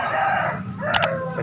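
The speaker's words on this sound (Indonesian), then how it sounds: "Ayam muda" A young Bangkok rooster crows at a bird-hobbyist market in Makassar, a single close, loud cock-a-doodle-doo over busy market background noise.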